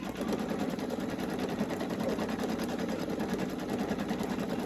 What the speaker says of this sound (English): we're going to let this stitch out. This will go through and do the whole name